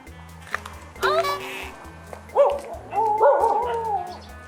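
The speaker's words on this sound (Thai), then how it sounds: "ขนาดหมายังเห่าเลย" A dog barks in a Thai comedy series scene, several loud close yips and barks spread over a few seconds, with a steady background music bed underneath.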